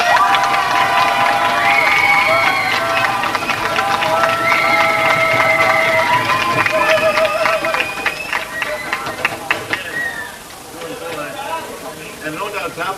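A large group of teenagers at a Danish boarding school cheer and shout together in a lively, sustained roar. It stays loud for about ten seconds, then thins into scattered voices.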